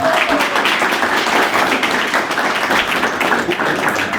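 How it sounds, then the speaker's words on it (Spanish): A crowd applauds loudly and steadily, many hands clapping in a dense, continuous patter throughout. "les pido por favor un fuerte aplauso a Julio que vino."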